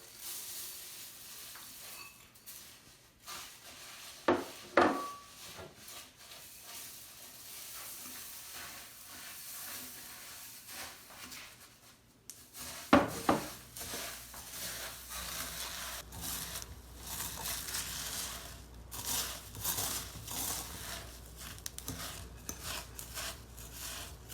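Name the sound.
stirring Rice Krispies into melted marshmallows in a bowl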